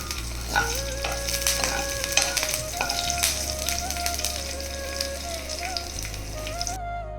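Chilli being stirred as it fries in a pan of oil for tomato rice, a steady close sizzle with scraping stirs throughout and no voices.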